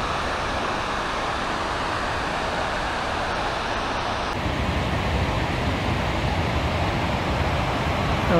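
Powerful water surging from the opened San Roque Dam gates, a dense, steady roar that fills the whole clip, loud and continuous with no letup.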